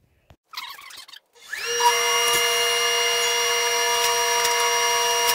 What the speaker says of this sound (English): So we're gonna throw it through the planer and see what it does.